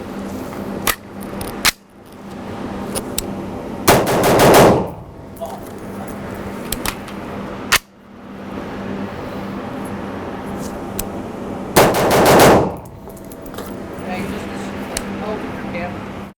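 Sig Sauer MCX rifle firing lacquer-coated steel case Barnaul ammunition, two loud, sharp reports roughly eight seconds apart, each with a short ringing decay over a steady background hum.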